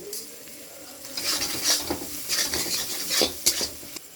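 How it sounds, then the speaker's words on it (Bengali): Spices such as turmeric and chilli powder are mixed into chicken for a chicken kosha, giving rough scraping and stirring strokes in an uneven rhythm, close and moderately loud. "সব কিছু ভালো করে মিশিয়ে নিচ্ছি"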